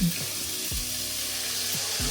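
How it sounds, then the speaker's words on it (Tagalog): Water pours steadily into a soup pot over a low hiss, with a few soft clunks of cookware, about a liter added to chicken noodle soup with carrots. "Mag-add na lang din ako ng tubig."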